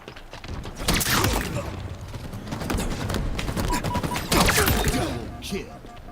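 Grenade blast and gunfire in a fast online shooter match, a dense run of sharp cracks and bursts with two louder explosive peaks about a second in and near the end, steady and close throughout.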